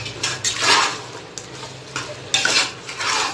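Raw chicken is mixed with masala for a pressure cooker chicken biryani, heard as a series of close, wet scraping stir strokes and utensil clinks against the pot, without any speech.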